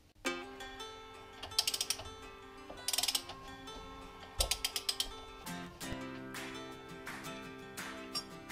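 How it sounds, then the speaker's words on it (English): A ratchet wrench clicks in repeated quick bursts while a bolt is worked loose from a motorcycle battery box on a GS550 rat bike, close and fairly quiet, with no speech. "Take that bolt out,"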